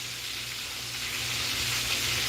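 Chicken marsala sizzling steadily in a pan, a loud, even frying hiss over a low background hum, without speech.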